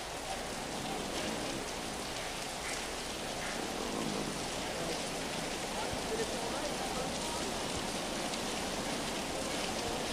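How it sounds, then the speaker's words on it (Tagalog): Continuous heavy rain pouring during flooding at the Bugaan Spillway in Laurel, Batangas, a dense steady wash of noise with faint voices underneath. "Bunsod ng tuloy-tuloy na pag-ulan"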